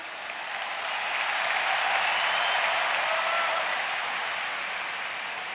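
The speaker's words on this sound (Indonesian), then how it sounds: "Berikan tepuk tangan yang paling meriah buat beliau." A large rally crowd in a stadium applauds, a dense sustained wave of clapping that swells in the middle and eases off toward the end.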